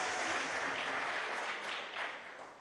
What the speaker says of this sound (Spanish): mandar un aplauso, vale, a Cristóbal